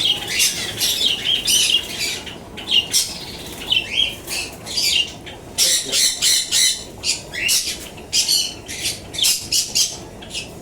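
Caged pet birds at a bird seller squawk loudly and repeatedly in shrill bursts, with occasional wing flapping and chirps, close by and without talk.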